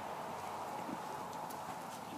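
Horse hooves clip-clop in a soft, steady rhythm during a riding lesson in an arena, heard at a moderate distance under faint background noise.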